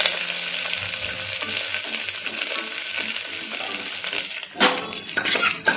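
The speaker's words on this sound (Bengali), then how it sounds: "সব কিছু দিয়ে আমি একটু ফ্রাই করে নিচ্ছি।" Halved green chillies and onions fry in a pan with a little oil for a light fish curry, a steady sizzle with spoon stirring and a few louder scraping clatters near the end.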